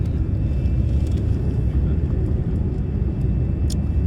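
Airplane cabin noise during descent on approach to Sydney: a steady, loud low rumble of engines and airflow fills the cabin continuously, with a few faint clicks on top.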